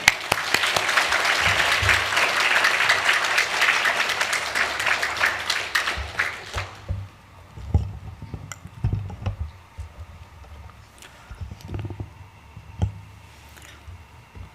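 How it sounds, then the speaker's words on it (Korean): A church congregation claps to welcome a pastor at an evening revival meeting, loud sustained applause for about six seconds that then fades to scattered claps, clicks and small room noises. "목사님 환영의 박수로 함께 모시겠습니다"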